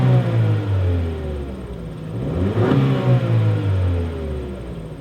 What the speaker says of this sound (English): let's hear a rev one more time